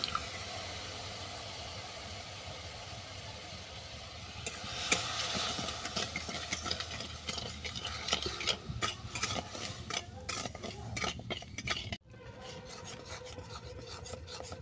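Sugar and water stirred in a pan (kadai) as they cook down into caramel: steady scraping and rubbing strokes, growing busier and more rasping partway through, with a brief pause near the end before stirring resumes.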